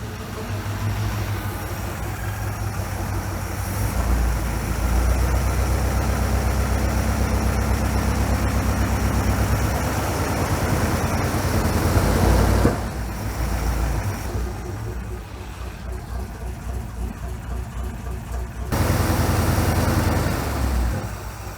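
A 1965 Chevrolet Impala V8 running after sitting ten years with its timing off, a loud, steady, labored idle with lumpy low rumble, briefly revving and dropping, close by and without talk.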